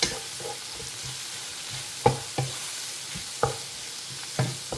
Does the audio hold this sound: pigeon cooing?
no